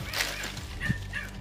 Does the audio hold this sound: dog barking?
yes